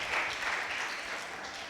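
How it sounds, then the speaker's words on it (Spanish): A church congregation applauds newly baptized members: a short burst of steady, soft clapping from a crowd, heard at a distance and without talk. "¿Cuántos le dan un aplauso a ellos?"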